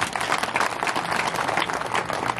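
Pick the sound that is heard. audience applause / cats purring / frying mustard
audience applause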